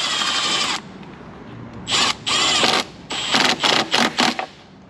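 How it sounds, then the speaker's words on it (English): A clamp securing an air filter to the airbox lid of a 2007 Silverado 3500 6.6 is run down with a power driver, giving loud close whirring bursts: one long, then several short, choppy pulses with pauses between. "Now we can run the clamp down, and that's gonna secure the filter to this airbox lid."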